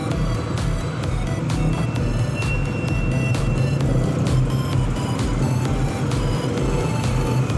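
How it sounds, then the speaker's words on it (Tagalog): Heavy street traffic in Dumaguete, a loud continuous rumble of engines with repeated clicks and rattles and a short high tone, close by and steady throughout. "traffic dito sa Dumaguete guys"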